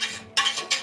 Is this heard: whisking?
yes